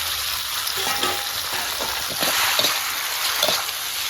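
Noodles crackle and sizzle in hot oil as they are stirred and tossed for Thai rad na, a steady bright frying hiss with scraping bursts, close and alone.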